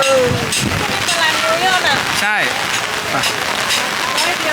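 Rain pours steadily over an outdoor Thai night market during a storm, a dense hiss with scattered louder patters, while vendors and shoppers talk nearby throughout.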